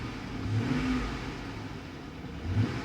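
A Chevy Suburban engine revved on a quick snap of the throttle, a low, fairly quiet mid-range engine roar that swells and eases back, with no voices over it.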